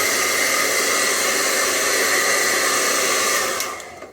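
A hair dryer blows hot air steadily and loudly to straighten a beard, a continuous broadband rushing hiss that cuts off and fades near the end.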